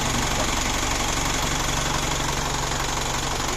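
A large Japanese truck engine idles steadily and loudly, a continuous rumbling drone with a faint knocking texture throughout.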